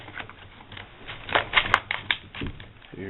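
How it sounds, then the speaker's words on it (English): Scissors cut the packaging of a Crosman Vantage air rifle at close range, making several quiet, irregular snips and crinkling clicks. "Scissors."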